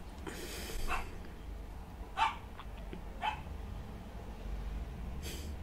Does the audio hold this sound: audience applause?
no